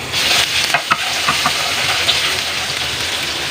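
Garlic drops into hot cooking oil in a pan and fries with a steady close sizzle, a few stirring clinks and scrapes near the start.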